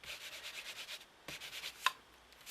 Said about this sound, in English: what I might do is take the pad and rub.